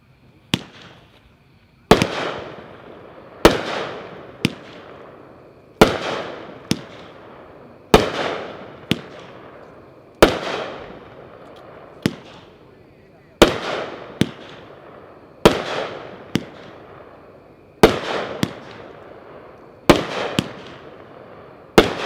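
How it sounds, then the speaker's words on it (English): Pyroland's Nishiki Rush, a 30-shot firework cake, fires a sharp launch and burst roughly every two seconds. Each loud crack trails off in crackling decay, in a steady sequence heard from a moderate distance outdoors. "Number 5 is Nishiki Rush by Pyroland, packed 2-1, 30 shots"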